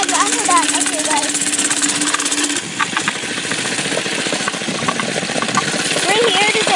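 Mini bike engine buzzing steadily as it rides along a sandy woods trail over exposed roots, loud and close, with the drone shifting in pitch partway through.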